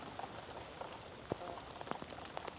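Soft, constant patter of heavy rain in Oregon on a surface with scattered louder drips, fairly quiet and close, no voices.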